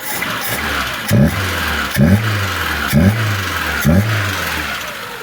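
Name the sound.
car engine running smoothly with restored carburetor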